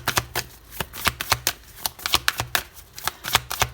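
Tarot cards are shuffled in a quick, close series of crisp riffling slaps and flicks, a dozen or so sharp bursts in steady rhythm with no voice over them.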